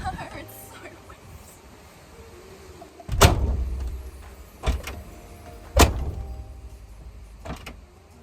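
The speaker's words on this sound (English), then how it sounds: "finally closed the door" The back door of a Mercedes Sprinter van is closed in the wet, with several dull thuds spaced a second or so apart, the first the heaviest, close by over faint background noise.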